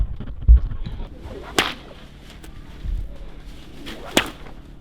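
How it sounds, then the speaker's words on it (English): Several sharp whip cracks, loud and close, spaced a second or two apart outdoors in Alice Springs, with faint background noise between them. "I hear a whip over there, I might give it a crack,"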